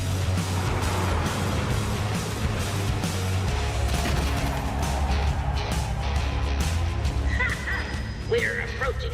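A combustion-engine car roars and rumbles continuously in a World of Warcraft cinematic trailer, loud and steady throughout with crashing and clattering impacts layered over the engine noise.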